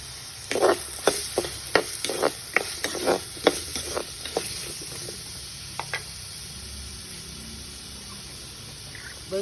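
Fennel, fenugreek, onion and garlic frying with pumpkin in a pan, a steady close sizzle broken by a series of sharp stirring knocks early on that fade out, leaving the sizzle alone, no talk.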